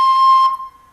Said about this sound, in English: That note is actually a C, and it sounds like this.